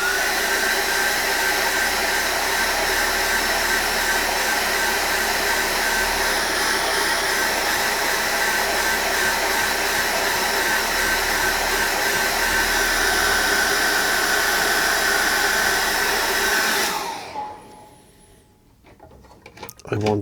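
Hair dryer blowing on wet acrylic paint, running loud and steady at close range with a constant whooshing hum for most of the time before switching off abruptly, leaving near silence.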